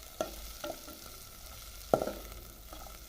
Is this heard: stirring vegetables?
yes